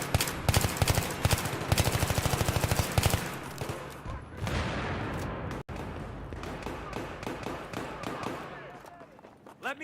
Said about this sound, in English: there's one of the hostile machine guns over.